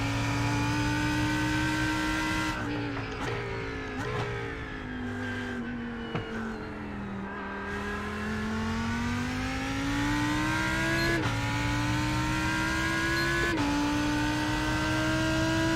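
Chevrolet race cars in the iRacing simulation hold a loud sustained engine drone, pitch sagging then climbing back as revs rise, with short gear-shift breaks and a few passing cars nearby.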